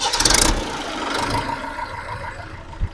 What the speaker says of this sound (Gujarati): મહિન્દ્રાનું એન્જિનનો 4 સિલિન્ડરનો અવાજ